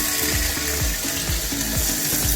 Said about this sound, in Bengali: এবার আমি জল অ্যাড করে দেবো গ্রেভি করার জন্য